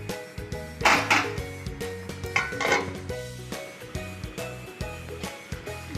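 A lid set onto a cooking pot of jackfruit curry gives a couple of brief metallic clanks and rattles, heard up close over steady background music.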